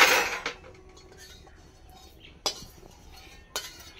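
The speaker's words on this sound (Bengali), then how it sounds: "এটা গোটা মশলা একটু পিষে নেব।" Whole roasted spices and dried red chillies are pounded in a mortar, giving a few sharp, separate clinking strikes spaced a second or more apart in a quiet kitchen.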